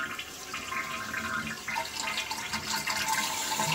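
Toilet flushed by a Home Assistant servo-driven flusher, a steady rushing swirl of water that holds at close range for a few seconds and swells slightly toward the end.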